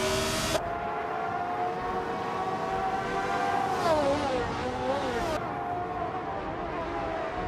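McLaren M23 and Shadow DN5 race car engines drone steadily together, a layered, high-revving whine that holds level for a while, then dips and swoops in pitch as the cars shift and pass, continuous and loud with no voices.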